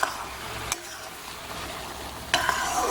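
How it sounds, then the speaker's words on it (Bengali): Melting sugar with grated ginger sizzling softly in a pan, stirred with sharp utensil scrapes near the start and again later, faint and close with no talking. "গ্রেট করে দিয়ে ভালো করে এটাকে নেড়ে দিতে হবে"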